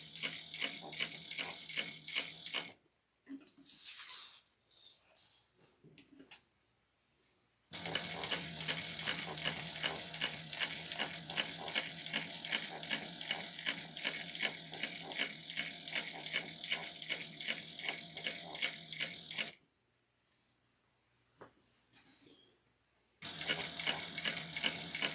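A sewing machine stitching a canvas backpack runs in rapid, even bursts of mechanical rattling, with long steady runs separated by brief pauses, close and alone.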